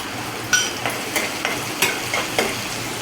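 Onions sizzle steadily in a pan while a utensil stirs and scrapes them in a regular rhythm of soft clacks, close up.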